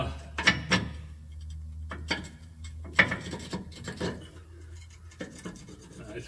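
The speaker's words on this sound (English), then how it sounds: "it's scraping really hard on this" A metal U-bolt scrapes and grinds against the holes of a metal bracket during a Safe-T-Plus installation, giving several rough, close scraping bursts in irregular rhythm with quieter rubbing between them.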